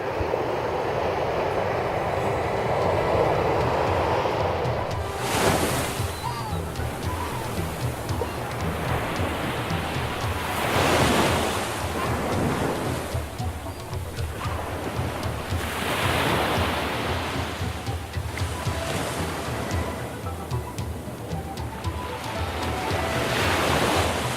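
Ocean surf rolling onto a beach along a salmon river mouth in brown bear country, with repeated waves building and breaking every few seconds over a steady roar and some wind.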